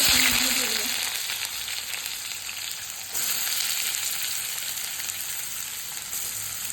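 Hot oil sizzles steadily in a pan for biryani, a loud continuous frying hiss with a brief crackle near the start and no talking.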